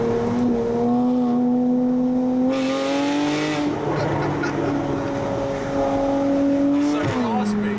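A Porsche 981 Boxster S with an Armytrix Valvetronic exhaust drones steadily as the engine note rises and falls through revs, heard from inside the car with occupants talking over it.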